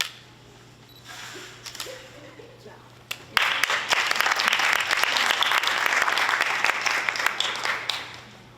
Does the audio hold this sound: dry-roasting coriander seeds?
no